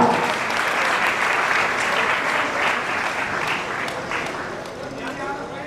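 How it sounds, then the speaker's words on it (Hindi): An audience at a Brahmin community talent award ceremony applauds loudly, with steady, dense clapping filling the hall throughout. "बच्चे के लिए भी जोरदार तालियां।"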